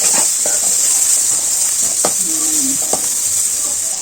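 Onions with ginger garlic paste and turmeric sizzle steadily in a hot pan as they are stirred, with a few soft scraping strokes rising above the continuous frying hiss.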